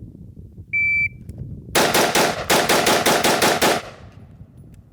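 At an outdoor shooting range, a timer beep sounds, then a pistol fires a rapid string of about a dozen sharp, evenly spaced shots in quick succession, close and loud.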